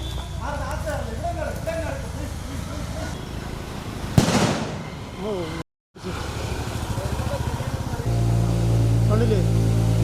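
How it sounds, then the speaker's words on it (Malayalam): A sharp, loud firecracker burst, set off by forest officials to drive a wild elephant from a roadside in Malampuzha, crackles out over steady outdoor noise and talking, followed by a brief dropout and continued chatter with a low engine-like hum. "വനംവകുപ്പ് പടക്കം പൊട്ടിച്ച് ഓടിച്ചു"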